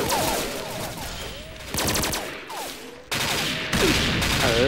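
Rapid gunfire from the shooter game XSHOT, with dense automatic bursts and repeated shots crackling loudly and nearly nonstop throughout, overlapping one another, with brief whistling effects mixed in.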